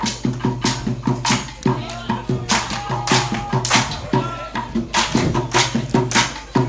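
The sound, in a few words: rhythmic hand clapping for a Cherubim Church song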